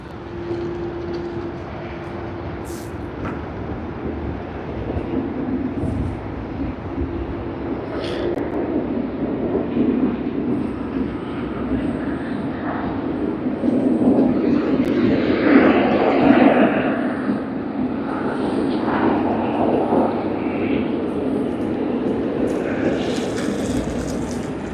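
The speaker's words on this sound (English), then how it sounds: "we are getting Cathay Pacific CX162 departure to Hong Kong. A nice heavy departure, Boeing 777-300ER." A heavy Cathay Pacific Boeing 777-300ER departs Sydney Airport on a flight to Hong Kong, its engines a steady broadband roar that swells to a peak and then holds a sustained rumble.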